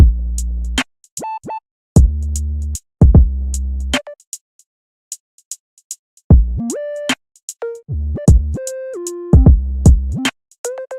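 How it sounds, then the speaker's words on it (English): Deep, booming 808 bass notes in a bouncy pattern, with a higher gliding bass line weaving between them and sharp percussive ticks over the top. "Together with the other 808, they sound like this."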